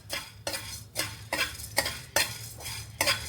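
Coriander seeds dry roasting in a pan for a spicy okra powder, stirred with a utensil in a quick run of rhythmic scrapes and rattles against the metal, close and fairly loud with no one talking.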